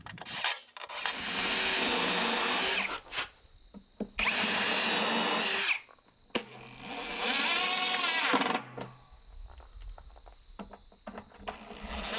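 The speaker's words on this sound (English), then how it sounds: "do some sort of hole drilling on the top so I can make some clamping points" A power drill whines loudly in three sustained bursts, each lasting a couple of seconds, boring holes in a plywood workbench top, with quiet gaps and faint clunks between them.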